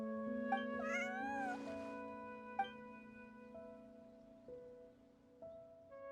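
A cat meows in a video game, a clear rising and falling meow and then a few softer mews over a steady tonal musical background, close and unaccompanied by talk.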